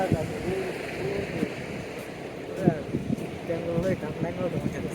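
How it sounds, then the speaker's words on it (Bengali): Sea waves wash onto the shore at Laboni Point, Cox's Bazar, a continuous broad surf roar with wind buffeting the microphone, while a person talks over it. "দেখতে পাচ্ছেন কক্সবাজারের সমুদ্রের কি ঢেউ"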